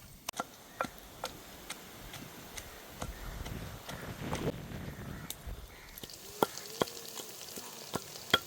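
Brinjal pieces cook in oil in a village kitchen with a soft, steady sizzle and scattered light ticks and pops, fairly quiet and close, with no voices.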